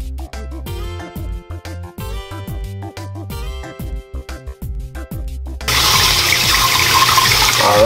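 Sea moss being washed by hand under running water, a steady loud gush of tap water filling the last few seconds after a stretch of music with rhythmic beats.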